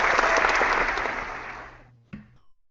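Applause swells loud and dense during an online birthday hangout and jam session, then fades out quickly, leaving a short, faint knock at the end.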